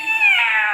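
A person imitating a cat's meow, one short, loud, drawn-out nasal mew heard up close on its own.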